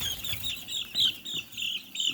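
A rooster gives short, repeated clucks while being handled, several bright pulses in quick succession at close range with light rustling beneath.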